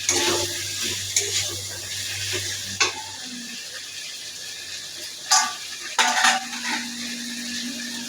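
Pre-boiled potato pieces sauté in a pan for an egg and cauliflower curry, with a soft steady sizzle and occasional scraping stirs of a utensil against the pan, close by.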